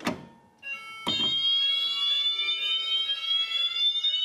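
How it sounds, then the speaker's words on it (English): An X10 fire alarm system under test sounds after a pull station is pulled, with two sharp clacks followed by a loud, continuous electronic alarm tone from a Wheelock horn and a Banshee sounder, close and steady. "the Wheelock horn's going off there, the Faraday strobe is going off, and the Banshee Sounder over there."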